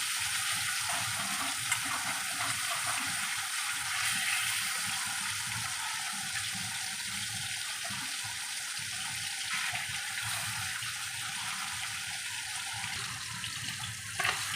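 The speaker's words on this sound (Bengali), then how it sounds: "মাছটাকে ভাজতে হবে, হালকা করে মাছটাকে ভাজতে হবে।" Fish fries lightly in oil in a pan for a Bengali fish curry, a steady, close sizzle and crackle running without pause throughout.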